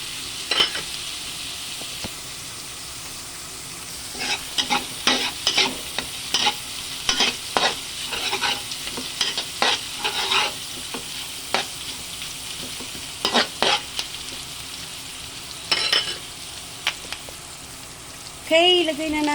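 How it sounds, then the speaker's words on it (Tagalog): Hot oil spattering and crackling in a pan while frying for dinuguan, with bursts of sharp pops and stirring clatter over a steady sizzle, fairly close. "Habang nagatalsikan ang mantika, nakakatakot."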